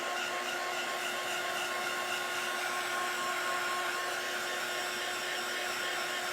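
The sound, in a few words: hair dryer drying paint on a DIY bunny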